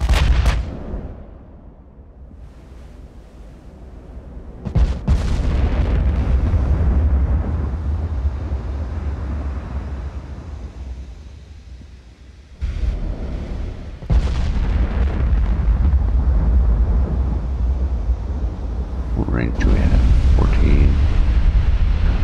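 Twelve 16-inch naval guns on a warship in the game Ultimate Admiral: Dreadnoughts fire in heavy booming salvos. Three big blasts land several seconds apart, each followed by a long rumbling roar that fades under wind-like noise.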